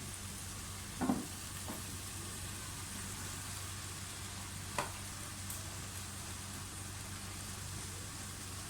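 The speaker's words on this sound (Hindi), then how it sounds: "अब इस टाइम पे इसमें मैक्रोनी डाल दें।" Macaroni goes into a pan of sizzling chicken keema with tomatoes: a steady close hiss of frying, with a couple of brief knocks and clatters as the pasta lands, and no voices.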